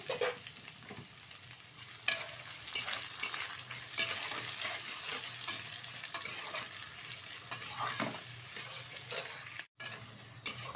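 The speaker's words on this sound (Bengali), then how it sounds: "এখন দিয়ে দিচ্ছি কুচিয়ে রাখা পেঁয়াজ। পেঁয়াজটা হালকা ভেজে নেব।" Chopped onions fry in a pan for ghugni, a steady close hiss of sizzling oil with occasional scrapes and stirring knocks throughout, no voices present.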